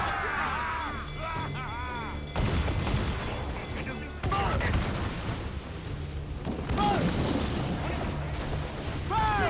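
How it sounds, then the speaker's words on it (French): Cannon fire strikes a ship in a naval video game, with repeated booming impacts and rumbling blasts layered over game music and excited speech. "Tire sur nous! Le navire est touché!"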